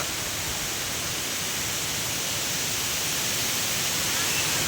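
Thiruparappu waterfall near Nagercoil in Kanyakumari district roars with a steady, dense rush of falling water, loud and unbroken throughout with no voices.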